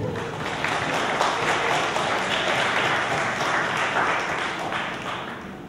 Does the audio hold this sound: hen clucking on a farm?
no